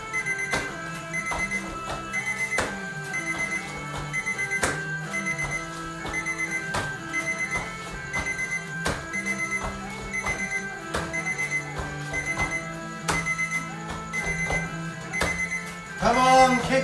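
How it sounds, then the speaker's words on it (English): A kickboxing workout timer sounds a string of sharp, evenly paced beeps over a steady tonal background, keeping time for the exercise. "Let that beep, beep, beep, beep pace you."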